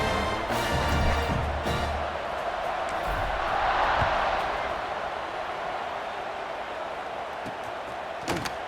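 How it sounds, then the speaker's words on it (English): Crowd noise at a college football game between Duke and North Carolina in a video game, a steady broad roar of the stands that swells midway and then eases, with a few sharp knocks. "this crowd is feeling themselves after that last drive"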